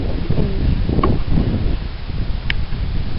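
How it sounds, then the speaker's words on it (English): Steady gusting wind rumbles across the microphone for a few seconds, broadband and fairly loud, with no voices. "Pretty windy out, a little bit."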